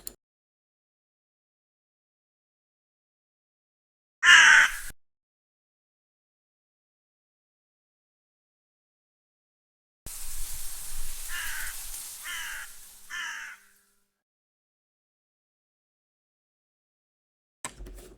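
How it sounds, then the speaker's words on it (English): Crows caw in a few separate bursts: a short harsh call, a long pause, then three quick caws in a row against near silence. "Don't forget the crows."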